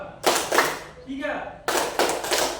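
Pupils in a classroom clap game clap together in quick, loud bursts, a cluster of claps, a short pause where a voice speaks, then another run of rapid claps.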